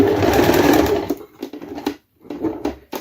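A sewing machine runs a close, dense burst of stitches to lock the seam on a piece of summer anti-chafing clothing, loud and continuous for about a second, then breaks into short stop-start runs with brief pauses between them.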